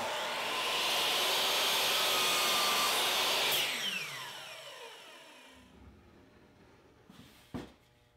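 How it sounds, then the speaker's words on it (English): A wood router fitted with a roundover bit shapes MDF molding for a TV lift cabinet, a loud steady high whine that holds for several seconds, then spins down and fades out, followed by a faint knock. "a slight roundover made with a roundover bit in the router"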